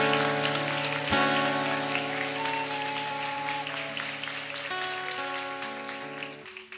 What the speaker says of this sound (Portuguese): Aplauda essa igreja, irmãos.